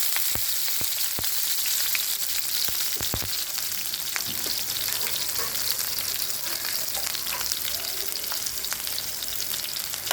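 Green chillies and onions frying in hot oil, a continuous crackling sizzle with sharp spatula clicks and pops, close up and without voices.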